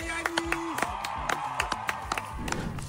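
A small group of friends camping in a forest claps in a quick, distinct rhythm outdoors, with cheering and voices over it.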